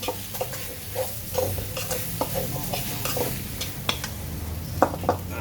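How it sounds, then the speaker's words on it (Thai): Eggs frying in oil in a pan for an omelette and fried eggs, a steady close sizzle with stirring and scraping clinks of utensil against pan throughout. "ทำไข่เจียวไข่ดาวไง"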